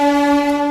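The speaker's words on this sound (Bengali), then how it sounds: "ট্রেন ঢুকছে" A train horn sounds in one loud, steady, sustained tone as a train pulls into Howrah station, continuous across the moment with no talk.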